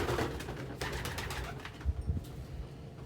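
Pet birds at breakfast feeding indoors, giving low, soft cooing calls close by, mixed with light clatter and rustling.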